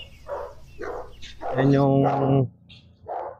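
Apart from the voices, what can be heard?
dog barking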